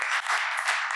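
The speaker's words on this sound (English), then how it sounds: "our guest today deserves a big round of applause" A studio audience applauds a talk-show guest in a second-long burst of dense, steady clapping at moderate loudness, with no voices over it.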